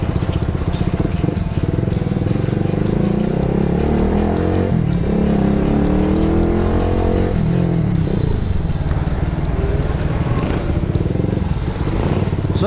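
A motorcycle engine fitted with an exhaust silencer running steadily with a muffled, throaty exhaust tone, rising and falling slightly in pitch, loud and continuous throughout.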